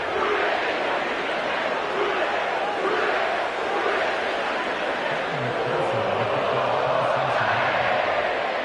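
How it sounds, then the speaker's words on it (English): A sellout football crowd fills Paycor Stadium in Cincinnati on a Monday night, a broad, steady roar of distant voices and murmur with a few rising cheers, running continuously beneath the atmosphere. "sellout crowd has arrived at Paycor Stadium in Cincinnati"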